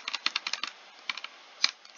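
Rapid computer keyboard clicking during a fast rhythm game, with bursts of sharp keystrokes in quick clusters and short gaps between them, close and clear with no voices.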